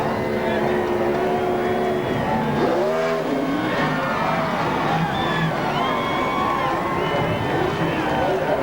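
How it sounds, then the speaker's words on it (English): Clint Bowyer's NASCAR Busch Series race car doing celebratory burnouts after winning the 2005 race at Memphis, its engine roaring and revving loudly over constant crowd and track noise. "He's going to give us some burnouts here."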